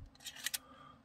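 A Kodak Colorsnap 35 film camera gives a few faint mechanical clicks and a ratcheting sound as the film is advanced and the shutter released. The sounds are short and close in a quiet room.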